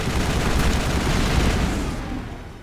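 A dense, loud barrage of rapid gunfire in a Mass Effect battle, continuous overlapping shots that fade slightly toward the end, with no speech.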